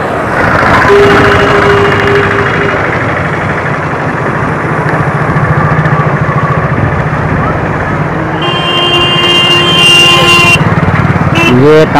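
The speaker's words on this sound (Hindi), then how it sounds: "बाइक वगैरह आती जाती है तो यहाँ पे ऐसे शोर शराबा होते रहता है" Motorbikes crossing the Kamala river bridge during a flood, with a steady engine drone and traffic noise throughout, a horn-like tonal sound rising near the end, close and loud.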